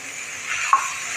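Onion, garlic masala and garam masala hiss and sizzle in hot oil in a pan while being sautéed for a bombil and potato curry, a steady close frying noise with one brief stir or clink.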